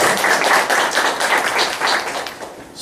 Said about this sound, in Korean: 조 교수님 나오실 때 박수로 맞아주시면 좋겠습니다